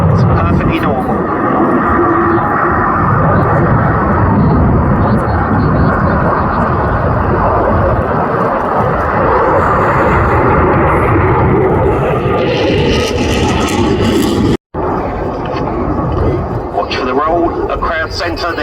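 RAF Typhoon fighter jet flying an airshow display at Cosford, its loud continuous engine roar sustained throughout with a brief dropout near the end, a commentator talking over it.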